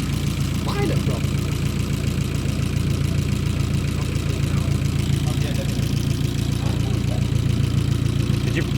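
A freshly replaced engine in an Abarth 500 idles steadily and loud up close, a smooth continuous low thrum with a faint regular knock, while voices chat nearby.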